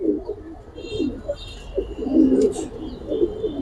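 Cooing from an old-line pigeon kept for sale, a low throaty warble rising and falling in repeated phrases, close by, with faint chirps from other birds in the background.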